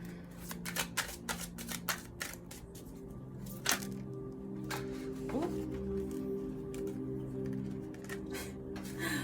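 A deck of oracle cards is shuffled by hand, with soft riffling flutters and quick slaps that come in bursts early on and then settle into a quieter rustling under a steady low hum.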